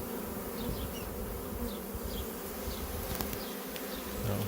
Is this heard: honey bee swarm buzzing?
yes